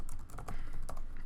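A quick run of keystrokes on a computer keyboard, close and crisp, with about half a dozen distinct taps in just over a second and no voice.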